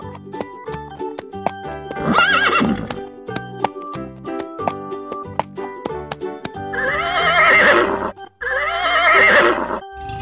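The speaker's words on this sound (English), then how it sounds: "Horse." A cartoon horse whinnies in loud bursts over a bright music-box style tune, with a second longer neigh later and light hoof clip-clop mixed into the music.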